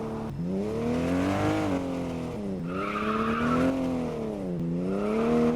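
A car driving fast in the video game Car Dealership 2, its engine droning steadily with the pitch rising and falling through gear shifts, loud and continuous, with faint tire noise.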